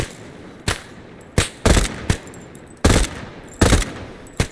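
Arma 3 gunfire, six or seven loud, sharp shots in uneven bursts over about four seconds, with short gaps between them and no talk.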